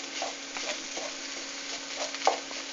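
Tomato puree mixture stirred in a pan, a soft continuous scraping and sloshing with a faint sizzle underneath and one brief sharper clink near the end.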